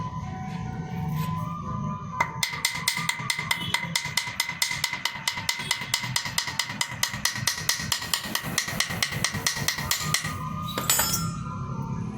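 A light hammer taps on a Discover 125 clutch plate assembly during replacement, striking in a fast, even run of sharp metallic ticks that starts after a brief lull and continues steadily for about eight seconds.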